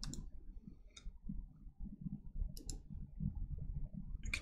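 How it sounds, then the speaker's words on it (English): A computer mouse gives a few sharp, isolated left clicks, spaced irregularly and heard close, against a low background rumble. "here I'm going to left click."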